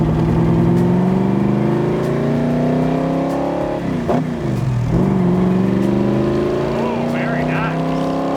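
A 1965 Backdraft Cobra with a Tremec 5-speed gearbox drives with a steady, loud engine drone whose pitch rises and falls through smooth gear shifts, while people talk briefly over it.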